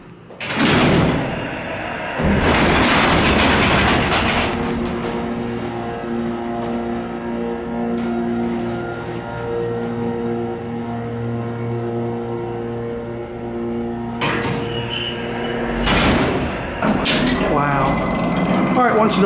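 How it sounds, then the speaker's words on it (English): An old freight elevator at Crabtree Valley Mall in Raleigh, North Carolina: its heavy door clanks and thuds shut near the start and again later over a steady mechanical hum, with people talking in between. "Uh-oh, we better close the door."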